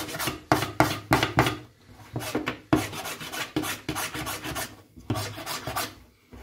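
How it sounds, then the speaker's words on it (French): A hand file rasps against an eyeglass frame arm in quick repeated strokes, close and fairly quiet, in short rhythmic bursts with brief pauses. "toutes les parties brillantes, je les lime"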